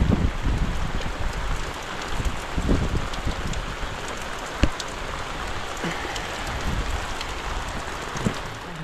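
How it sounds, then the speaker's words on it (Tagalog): Steady rain falls continuously, a dense even hiss with occasional louder drips close by. "kaso dire-diretso yung pag-ulan"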